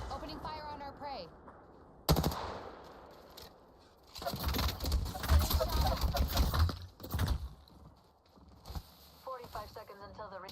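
Gunfire in Apex Legends, bursts of rapid shots clustered mid-way and loud against game ambience, with voices talking before and after.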